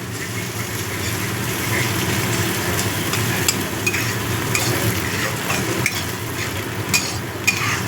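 Eggplant mash being stirred in a frying pan, a steady scraping and stirring with a soft sizzle underneath, fairly close and continuous, with a few sharper utensil clicks.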